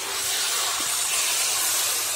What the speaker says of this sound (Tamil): எண்ணெயில் நல்லா வெண்டைக்காய் வதங்கி போச்சு.